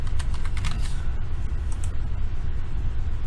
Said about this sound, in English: We can type in ground,